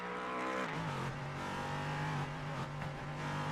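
A race car engine in iRacing drones at a steady pitch, dips briefly, then carries on with a rough, uneven tone as it chokes. Tire noise sits in the background, and no voices are heard.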